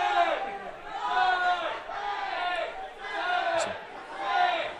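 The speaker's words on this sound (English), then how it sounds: "Crowd giving some fake calls and time here" Spectators at an ultimate frisbee match between Philadelphia Phoenix and Montreal Royal shout fake calls from the stands, a loud surging crowd roar with overlapping voices rising and falling in waves.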